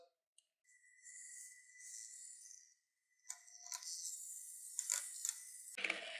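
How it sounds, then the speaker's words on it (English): A handheld coffee frother mixing resin at a woodturning bench whirs in short, quiet bursts with clicky mechanical buzzing, stopping and restarting several times. "it's actually a frother, I think, for coffee. They say you can mix resin with it too."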